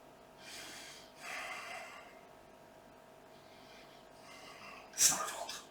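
Heavy, breathy exhalations during a Pilates mat exercise done without equipment, a few slow breaths close to the mic followed by a sharp, louder snort-like burst near the end.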